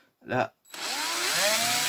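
A power drill with a 4 mm bit bores a hole through a homemade bird feeder near the handle, a steady close whirring grind that starts after a brief spoken word and runs on without pause.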